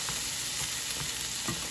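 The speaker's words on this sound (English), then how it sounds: "Kind of cook my curry in the butter." Curry and pimento sizzling in melted butter in a pan, a steady close crackle and hiss with faint stirring scrapes at regular moments, quiet and continuous with no talking.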